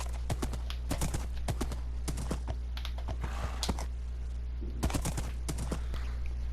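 Video game Minecraft horse hooves clip-clopping as a saddled horse is ridden, a quick run of sharp, close hoof clops, then a pause and another short burst.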